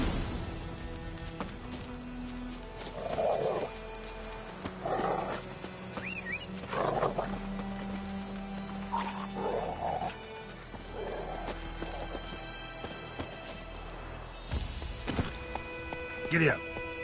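Horse hooves gallop steadily beneath a rider in The Witcher 3, a rhythmic mid-distance clatter running throughout, with snorts and whinnies at intervals and bits of game dialogue over it.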